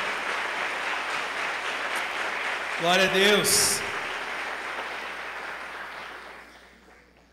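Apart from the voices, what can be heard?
congregation applause in church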